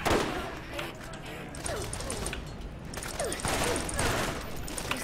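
Rapid gunfire bursts and clattering weapon mechanics from the video game Borderlands, fairly close and sustained, with players talking over the shooting.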